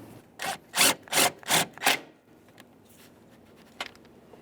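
A ratchet snugs up the bolts on a 2013-2020 Ford Fusion windshield washer reservoir, five quick rasping clicks in a steady rhythm, close and fairly clear, then a quiet pause and one faint click.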